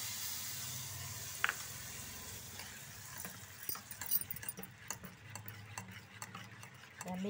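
Curry leaves and asafoetida crackle and sizzle in hot oil for a coconut yogurt chutney, a close steady fry with sharp popping ticks scattered through it.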